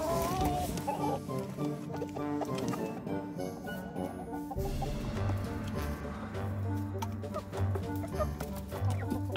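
Chickens cluck and chatter nearby in a busy, overlapping stream of short calls, with some rustling and background noise throughout.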